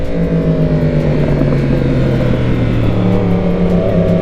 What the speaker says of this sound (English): these bikes sound so cool together